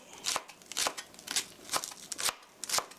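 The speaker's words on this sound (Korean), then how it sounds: "이렇게 해서 송송 썰어주세요" Knife finely slicing vegetables on a cutting board for meatballs in tomato sauce, giving six crisp, evenly spaced chops close by with no talk.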